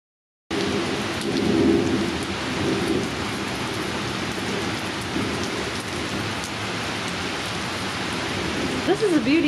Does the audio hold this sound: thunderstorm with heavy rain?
yes